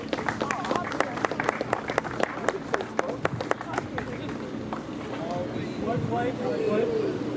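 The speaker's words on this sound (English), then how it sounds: "So hands up and a round of applause, please, for the alderman" Outdoor crowd applause at a street sign dedication ceremony for an alderman, a burst of sharp claps over the first few seconds that thins out, followed by murmuring voices and outdoor background noise.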